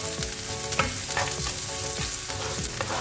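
Onions sauté in a pan for potato chickpea kurma, crackling loudly while a spoon scrapes through them in repeated strokes. The sizzle is close and steady, with no voices.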